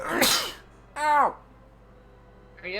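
A single sharp, close sneeze bursts out, followed by a brief strained vocal sound and a short voiced noise at the end.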